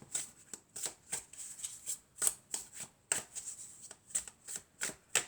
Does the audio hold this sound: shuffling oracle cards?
yes